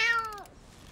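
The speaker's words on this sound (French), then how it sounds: "Et voilà un petit chat sain et sauf." A small kitten gives one high, clear meow that slides downward and fades within half a second, fairly quiet, followed by soft background noise.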